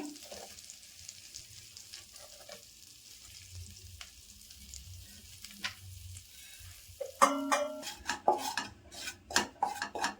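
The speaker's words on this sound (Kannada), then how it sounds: "ಇದು ಲೋ ಫ್ಲೇಮ್ ಅಲ್ಲೇ ಫ್ರೈ ಮಾಡ್ಕೋಬೇಕು" Flour frying in melted butter over a low flame for white sauce, a quiet low sizzle, then a run of sharp spoon clinks and scrapes against the pan.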